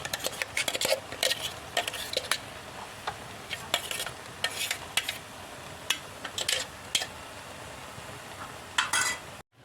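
Beetroot pachadi being stirred in a pan after a ground paste of coconut, mustard, cumin, green chilli, ginger and curry leaves is poured in, with repeated close scraping strokes of a spoon over a low sizzle.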